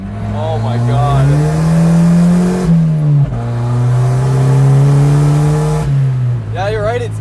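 Volvo 940 Turbo drift car engine revving loudly up and down in steady sweeps, a strong low droning note rising and falling with brief dips between pulls, with voices talking over it near the end.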